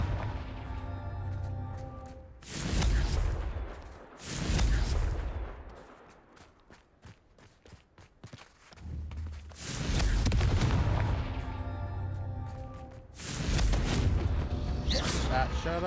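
A Confringo blasting spell cast in Hogwarts Legacy, several loud booming explosive bursts spaced a few seconds apart, with quieter crackling between them.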